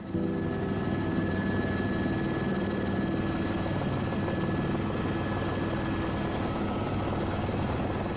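A helicopter at Sion Airport drones steadily and continuously, its rotor and engine hum holding at a constant loudness with no voices.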